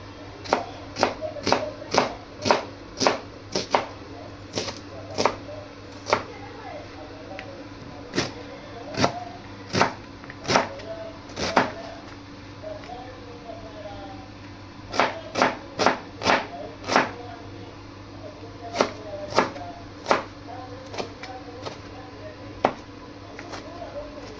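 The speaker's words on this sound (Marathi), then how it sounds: "तर आपण कांदा चिरून घेऊया" An onion being chopped with a knife on a board, sharp, evenly spaced taps arriving in quick runs with short pauses, close and distinct against a quiet background.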